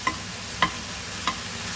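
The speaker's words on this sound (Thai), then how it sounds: "Tofu fried. เต้าหู้ทอด" Tofu frying in a pan for a Thai stir-fry of bean sprouts, tofu and minced pork hisses faintly and steadily, with three light taps of a utensil against the pan, close by.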